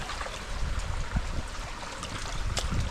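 Irrigation water flows into a rice field with a continuous rushing, gurgling wash and some uneven splashes, close by and moderately loud.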